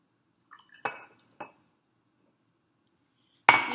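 Oil is poured into a glass jar holding water, giving a few sharp glassy clinks and a brief liquid splash, then a quiet pause before a louder final clink against the glass.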